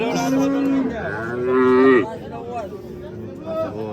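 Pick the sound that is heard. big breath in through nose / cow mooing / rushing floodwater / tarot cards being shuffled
cow mooing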